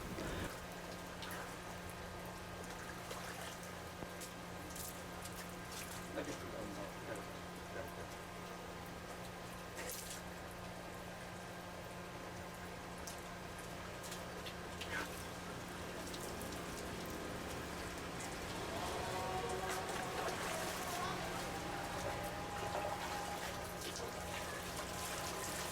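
Water is poured repeatedly over a body during Islamic corpse washing, giving a continuous splashing rush that swells slightly toward the end, with a low steady hum beneath.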